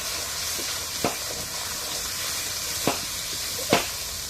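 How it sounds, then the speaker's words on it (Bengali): Ground spice paste with coriander powder being sautéed in hot oil gives a constant close hiss, broken by three sharp scraping clicks of a spatula; no voices. "এবার আমি সকল মশলাটা একটু ভালোভাবে কষিয়ে নেবো"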